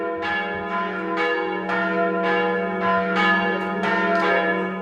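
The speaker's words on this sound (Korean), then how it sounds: "평화로운 일요일 오전, 교회의 종소리가 크게 울린다." A Sunday-morning peal from a rebuilt church in Ålesund, Norway: bells strike in a steady, rhythmic sequence about twice a second, each stroke ringing into the next, loud and continuous with no talking.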